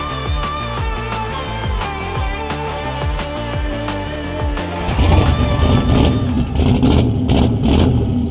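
A turbocharged race car engine runs outdoors, revving in sharp repeated bursts with a rising whine, then settling into a rougher, louder rumble as it spools up, close and dominant with no talk.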